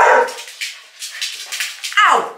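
Several dogs bark and yip excitedly indoors, loud and close, in overlapping bursts.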